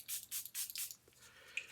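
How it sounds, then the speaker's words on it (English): Makeup setting spray hisses out in four quick, soft bursts at an even rhythm, close but faint, followed by a brief quiet pause. "This is a setting spray."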